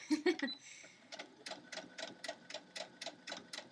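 A sewing machine stitches quilt blocks with a fast, regular run of ticking needle strokes, starting with a few louder knocks and then carrying on at a steady, fairly quiet pace.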